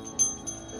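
A large Woodstock Chimes wind chime in a shop rings with sustained, shimmering metallic tones, layered and fairly close, with a couple of soft strikes.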